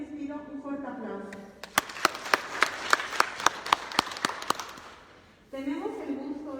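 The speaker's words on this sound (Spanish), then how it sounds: "para quien también les pido un fuerte aplauso" An indoor audience at a youth sexuality talk in Huajuapan breaks into brief, crisp applause with distinct sharp claps, bracketed by a speaker's voice before and after.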